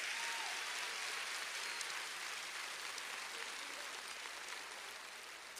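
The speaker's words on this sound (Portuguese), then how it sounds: "Meu Deus, aplauda mais forte ao Senhor." A church congregation applauding at a worship service, a dense, steady wash of clapping that fills the room from start to finish and fades slightly toward the end.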